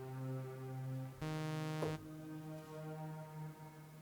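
M-Vave Mini Universe synthesizer playing sustained tones with a long bloom effect, a steady harmonic drone that swells brighter partway through and then settles, ringing on alone without any talk.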